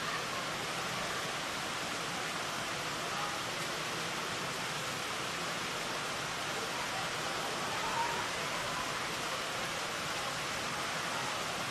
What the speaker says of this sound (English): It is bucketing down at Olympic Park.